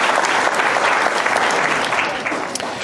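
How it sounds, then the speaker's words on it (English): A loud, dense round of audience applause during a classroom-style session, continuous rapid clapping that holds strong throughout and eases slightly near the end. "give him a round of applause for that"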